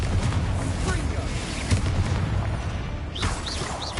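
Confringo fire spell explosions in Hogwarts Legacy combat, loud dense booming blasts over a rumbling low-end bed, with a few whooshing spell sweeps near the end.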